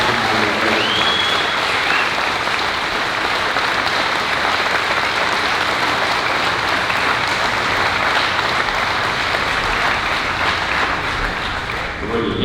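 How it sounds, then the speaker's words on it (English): Long, sustained crowd applause for young people at a state fair livestock sale of champions, a thick, even roar of many clapping hands, with scattered voices murmuring beneath it throughout. "let's give these young people a big round of applause"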